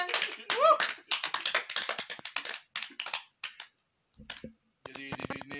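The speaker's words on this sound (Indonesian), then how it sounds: "Tepuk tangan." Hands clap quickly among a few people at the opening of a casual podcast, sharp, close and mixed with talking, with a short quiet gap before more taps and clattering near the end.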